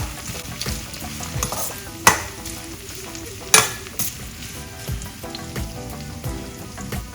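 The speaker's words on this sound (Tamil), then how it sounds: "வெங்காயம் நல்லா வதங்கிட்டு இருக்கு" Onions sauté in a pan for poondu kuzhambu with a continuous frying sizzle, punctuated by a couple of sharp metallic knocks and scraping stirs of a spoon, close and steady throughout.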